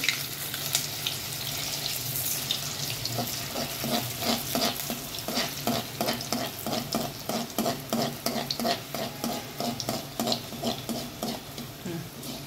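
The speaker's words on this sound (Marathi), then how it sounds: "मी 2-2च तळून घेते" Alu vadi pieces fry in hot oil with a steady sizzle, overlaid by rhythmic scraping and stirring taps against the pan.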